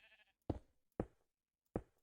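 Sheep bleating in the Minecraft video game: three short, clear bleats spaced about half a second to three-quarters of a second apart, loud and close, with a brief softer sound at the very start and no speech.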